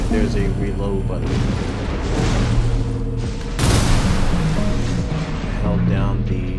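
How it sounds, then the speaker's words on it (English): Mech gunfire in Armored Core VI, loud booming shots and blasts over a dense game soundtrack, with heavy bursts clustering around the middle. "you have to keep shooting your gun until you need to reload"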